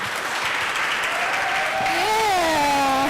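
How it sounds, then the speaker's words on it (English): Festival audience applauding loudly and steadily at a live session, dense clapping throughout, with a rising ululation-like tonal cry emerging over the applause in the second half. "Let's clap again"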